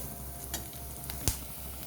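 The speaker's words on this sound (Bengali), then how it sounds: "এইভাবে আরও কিছুক্ষণ ভেজে নিয়ে আমি তুলে নেব আরও কিছুক্ষণ ভেজে নিই" Bottle gourd peel with poppy seeds fries in a pan with a soft, steady sizzle, broken by a few faint stirring scrapes and one sharper knock, close and quiet.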